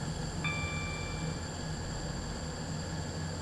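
A ten-coach passenger train runs in a video game with a steady rumbling drone and broadband hiss, a brief high tone sounding near the start, and no talking.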